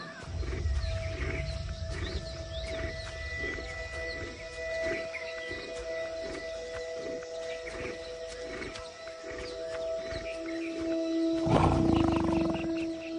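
A male Bengal tiger roars in the wild, a loud, rough low-pitched call rising toward the end over steady ambient jungle noise, with no talking.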